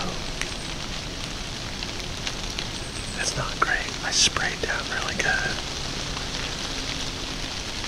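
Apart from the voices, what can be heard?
rain falling on a deer hunting stand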